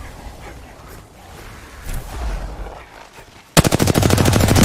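Rapid video-game gunfire bursts out loud after a quieter stretch of background game noise, a dense regular rattle of automatic shots continuing to the end.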